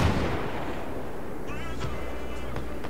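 Gunfire in the Battlefield video game, a few sharp shots and distant booms over a continuous battlefield din, with a brief whistling sweep partway through.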